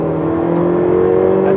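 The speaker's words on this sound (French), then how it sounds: "t'entends les turbos derrière." Ferrari 488 Pista turbocharged engine on the move, a steady loud drone with the turbos whistling behind it, continuous and close, with some talk over it.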